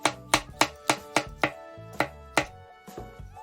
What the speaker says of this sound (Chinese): 咱们接下来将冬菇切成片儿